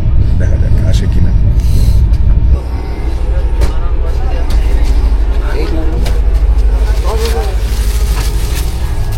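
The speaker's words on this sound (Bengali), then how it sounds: "ট্রেন ছাড়ল।" A passenger train pulls out of Bardhaman station, heard from inside as a loud, continuous rumble with rattling and clatter, close and steady throughout.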